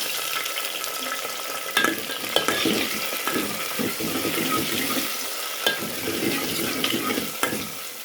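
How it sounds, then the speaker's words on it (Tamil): Tomatoes and green chilies are stirred into eggplant frying in oil for a curry. A steady close sizzle runs throughout, with a few sharp clacks and scrapes of the spoon against the pan. "தக்காளியும் போட்டு ரெண்டு கிண்டு கிண்டு விட்டுட்டு"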